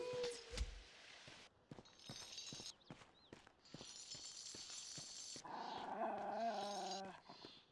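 A dog in the fantasy game The Bard's Tale growls and whimpers amid scattered footstep-like clops and game effects, moderately loud, with a sustained whining, growling stretch near the end.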